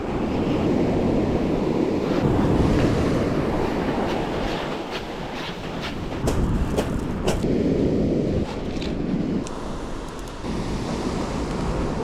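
Ocean waves roll and break on a beach where people are fishing from the shore, a steady loud wash of surf with heavy wind buffeting the microphone and a few sharp knocks partway through.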